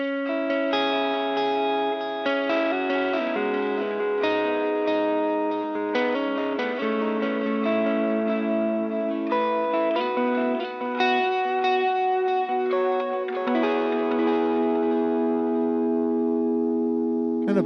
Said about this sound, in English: All right, let's see the Les Paul.